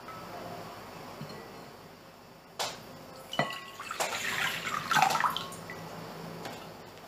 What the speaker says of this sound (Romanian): Și în vasul nostru voi pune apa.